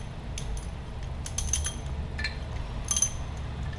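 Metal wrench sockets, a 15 mm and a 10 mm, clink and rattle as they are picked up from a toolbox during a Pontiac G8 supercharger teardown, with a few bright light taps and jingles and no talk.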